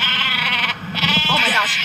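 The sheep weapon in the Worms Reloaded video game gives a loud, wavering bleat that fills the short moment, with game sounds and a voice mixed in.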